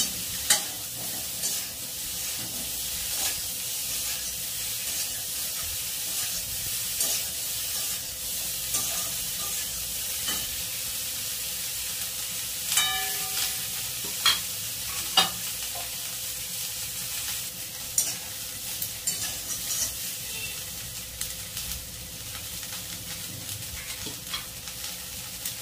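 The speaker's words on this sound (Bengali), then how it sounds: "ফুলকপিটা একটু হলুদ দিয়ে ভেজে নেব।" Cauliflower pieces fry with turmeric in a pan, giving a continuous close sizzle broken by repeated scraping clicks as they are stirred, with no talking.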